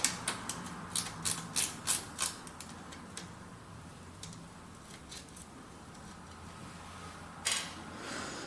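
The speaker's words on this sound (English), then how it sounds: "you need to take two 8mm spanners and undo the bolt that's holding on your" Two 8mm spanners working on the bolt holding a Brompton bike rack, a quick run of sharp metallic clicks and ratchet-like ticks at first, then sparse faint taps and one more click near the end.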